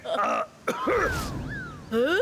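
A cartoon character gives a throaty cough and clears its throat in a couple of short, close bursts, between voiced, exaggerated vocal sounds.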